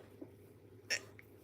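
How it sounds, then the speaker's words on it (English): One faint, abrupt hiccup from a person with the hiccups, a single short catch in the breath that stands alone against a quiet room. "I have hiccups."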